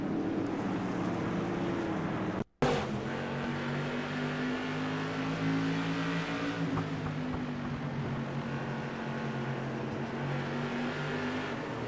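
Race car engine in a racing video game, a steady droning whine that shifts pitch slightly after a brief cut, with faint tire noise and no talk.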